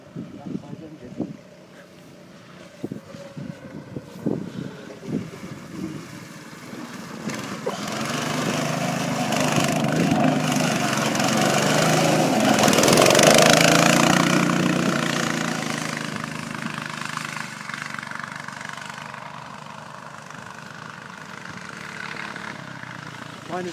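Small 160 cc go-kart engine running and revving, a buzzy mechanical drone that swells louder mid-clip and then eases, with a person talking briefly at the start.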